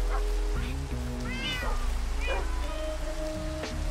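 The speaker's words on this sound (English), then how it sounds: "Why do the cats look like they're not getting all wet?" Several cats meow repeatedly in Minecraft over a steady bed of falling rain, with rising and falling calls coming close together and a voice talking faintly beneath.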